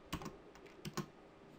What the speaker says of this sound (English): And you would type in what you want there.